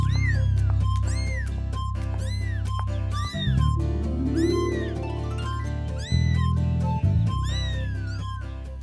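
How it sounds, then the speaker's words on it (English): A cartoon kitten gives a series of high, drawn-out meows, several separate cries rising and falling over a soft, sustained musical background, with no speech. "It's a kitten."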